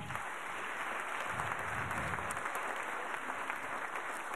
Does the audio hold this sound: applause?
yes